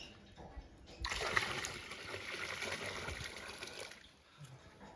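Water slops and splashes for a few seconds as a bucket is hauled up from an old village well, a faint, distant-sounding wash of liquid over quiet background.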